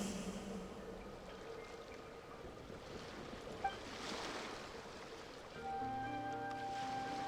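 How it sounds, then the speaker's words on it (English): Ocean waves in Genshin Impact roll in as a steady, soft wash of surf with no break, and a sustained musical tone joins near the end. "Go to where you can hear the sound of the waves."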